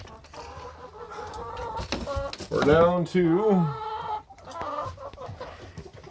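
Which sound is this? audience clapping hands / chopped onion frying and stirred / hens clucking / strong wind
hens clucking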